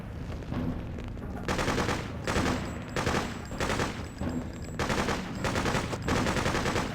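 Bursts of automatic gunfire in the video game Freedom Fighters, loud rapid rattling volleys coming in repeated waves with short gaps between them.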